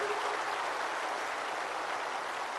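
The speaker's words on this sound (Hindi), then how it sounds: "मैं आज सबको विनंती करना चाहता हूं कि बहुत जोर से ताली बजाकर इसका स्वागत करिए।" A large audience at a cooperative congress in Delhi applauds, a dense, even wash of clapping that holds steady, somewhat distant, with no voices over it.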